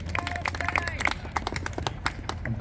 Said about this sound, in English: big round of applause